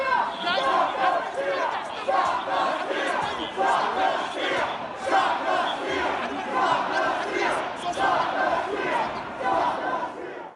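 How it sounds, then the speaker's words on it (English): A large crowd at the Capitol chanting in unison, a loud rhythmic slogan repeated in steady waves of shouting voices with crowd noise beneath. "You heard them chanting, "Stop the steal.""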